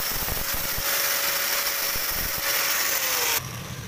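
A small power tool grinds a notch halfway into a tiny rivet for a miniature RC truck drive shaft, a loud continuous high whine with a slowly falling pitch that cuts off abruptly near the end.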